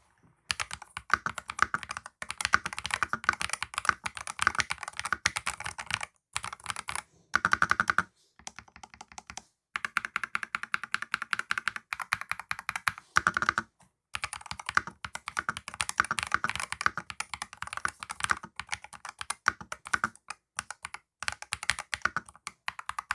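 Typing on a FURYCUBE M68 HE magnetic switch gaming keyboard: rapid, continuous clattering keystrokes with brief pauses between bursts, close and moderately loud, with no voices.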